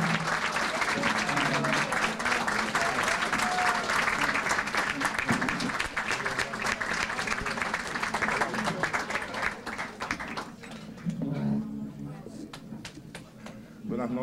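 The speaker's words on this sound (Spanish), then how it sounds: "con un fuerte aplauso y todo de pies, recibimos al próximo presidente de la República, Miguel Vargas." A large crowd at a Dominican political party rally claps loudly and continuously to welcome a presidential candidate, with cheering voices and tonal whistles mixed into the dense applause that thins slightly toward the end.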